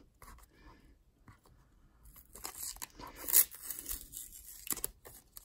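Tape peeled slowly off a plastic football trading card sleeve, heard up close as a quiet crackling tear that builds and grows louder over a few seconds.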